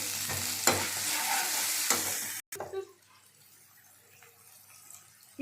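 Tomatoes tipped into a hot pan sizzle loudly with a stirring scrape, then the frying drops abruptly to a quiet low hiss with a few faint clinks.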